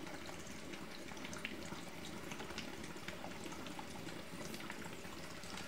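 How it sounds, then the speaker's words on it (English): Water dripped from a pipette onto dry ice produces a continuous bubbling, fizzing hiss with small crackles throughout, close and fairly quiet, without speech. "we're going to add some water"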